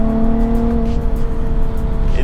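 A Nissan 370Z with silicone intake pipes runs at steady speed from inside the cabin, a loud, continuous low engine drone with a faint steady tonal hum above it.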